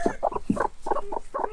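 Two broody hens that hatched a clutch of eggs cluck in a steady series of short, close, repeated calls with no talking.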